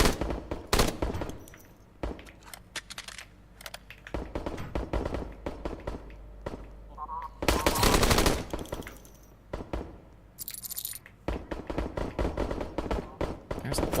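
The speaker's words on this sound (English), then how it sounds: "There's a lot of gunfire over here." Full-auto gunfire in a crow-hunting video game, loud bursts of rapid shots and clattering fire in irregular clusters, with a brief quieter pause and a few lighter impacts between volleys.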